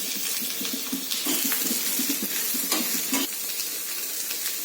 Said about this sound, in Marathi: तेलामध्ये आपण कांदा घालून घेऊ.